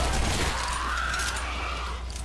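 Gunfire in the first-person shooter Shadow Warrior, a dense burst of shots blurring into a continuous loud rattle over a low rumble, with no talking.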